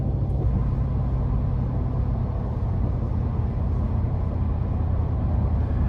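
Saleen F-150 SportTruck XR Yellow Label, a 700-horsepower pickup, pulling hard from inside the cab, a steady loud low-pitched engine roar with road rumble, no talking.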